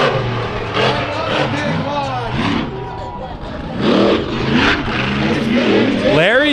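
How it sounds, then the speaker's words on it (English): The Bigfoot monster truck's engine roars and revs during a freestyle run at a fair, rising and falling in pitch with bursts of acceleration, heard under a continuous announcer's commentary and crowd noise. "Larry Swim piloting that Bigfoot truck. Doing a masterful job in freestyle"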